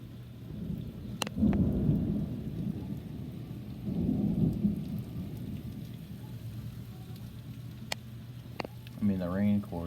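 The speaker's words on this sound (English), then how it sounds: "It's raining pretty good though." A summer thunderstorm brings steady heavy rain hissing on a street. Rolls of thunder swell up twice over it, and a few sharp cracks and a short voice or tone come near the end.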